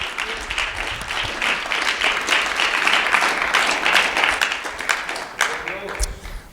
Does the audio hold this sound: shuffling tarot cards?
no